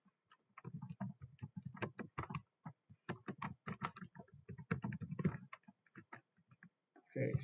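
Fingers type on a computer keyboard in quick, uneven bursts of close, crisp key clicks, with a brief pause before a final flurry.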